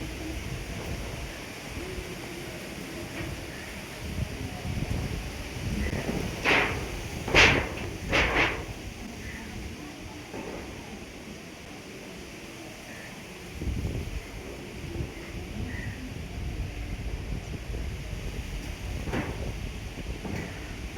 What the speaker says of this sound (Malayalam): കാറ്റിൻ്റെ സൗണ്ട് കേട്ടില്ലേ? അത്രയും നല്ല കാറ്റുണ്ട്.